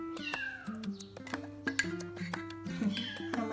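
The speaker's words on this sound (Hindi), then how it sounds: "हमारी बिल्ली है जो शोर मचा रही है, बुला रही है सबको।" A cat meows repeatedly and insistently, several drawn-out calls close by, with faint background sounds underneath.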